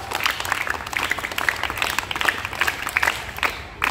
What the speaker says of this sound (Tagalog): Isang palakpak! Isang palakpak! Maraming palakpak!